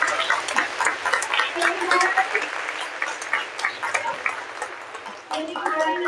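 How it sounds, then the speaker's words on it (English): Audience applause at a university startup pitch competition final, sustained clapping with cheering voices mixed in and a brief dip near the end, moderately loud. "Thank you, let's clap."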